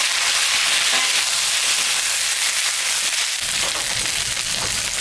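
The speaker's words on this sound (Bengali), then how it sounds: "আমি পোস্ত আর সর্ষের মধ্যে একটা বেগুন আর একটা আলু দিব। এটা আমি এখন ভাজা ভাজা করে নিই।" Eggplant and potato fry in a mustard and poppy seed paste with a loud, steady, close hiss of sizzling that barely changes throughout.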